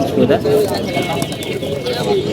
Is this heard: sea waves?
no